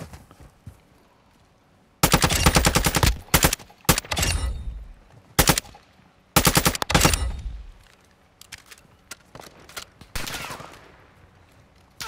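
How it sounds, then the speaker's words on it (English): Call of Duty DMZ gunfire rattles out in loud automatic bursts, several long rapid strings separated by short pauses and single shots, close and dominant with no speech. "You are taking effective fire."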